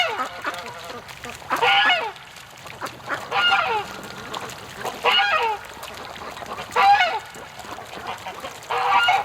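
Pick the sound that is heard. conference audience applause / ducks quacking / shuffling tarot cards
ducks quacking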